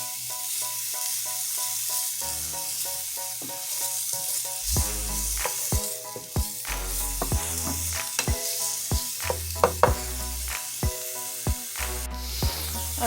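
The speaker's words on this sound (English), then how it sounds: "Once your pan is heated, we're going to add our onion in. We're going to saute our onion for about a minute." Chopped onion sautéing in a hot pan for ground beef stroganoff, giving a steady close sizzle throughout while a utensil stirs and scrapes with repeated knocks against the pan.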